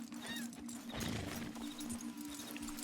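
Horse hooves clip-clop steadily in Red Dead, a mid-level rhythmic trot over a constant low hum and busy background game sound.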